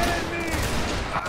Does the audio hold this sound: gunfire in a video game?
yes